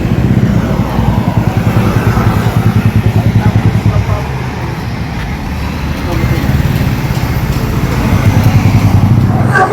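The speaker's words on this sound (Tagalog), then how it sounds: "Ayan, lakas ng vibrate ng motor to." A Griffin 180i automatic motorcycle engine runs steadily and loudly up close with a strong rhythmic throb during a test ride in Cavite, with a voice talking over it.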